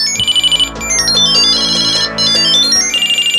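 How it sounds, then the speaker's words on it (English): A Tile tracker on a set of keys rings through Google Home Hub, playing a loud, bright electronic chime melody in repeated bursts, with a rapid pulsing trill at the start and end and no talking. "I'm ringing your keys."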